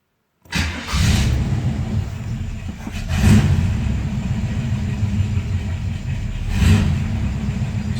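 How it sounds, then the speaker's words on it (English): Cold start of a Buick Regal with a carbureted engine: the starter catches and it fires into a loud, steady low rumbling idle, with a couple of brief revs swelling above it, close up and with no talk. "I'm going to show you the car starting. I'm doing a cold start"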